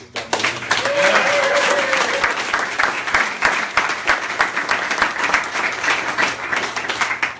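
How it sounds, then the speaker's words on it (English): An audience at an arts address in Marietta gives a round of applause, dense sustained clapping that swells early and continues throughout, with a voice briefly heard over it. "just give her a round of applause."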